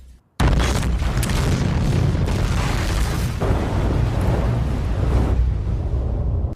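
A base blows up in Kamen Rider The Next, a big close explosion bursting suddenly and rolling on as a sustained, loud rumbling roar for several seconds before cutting off.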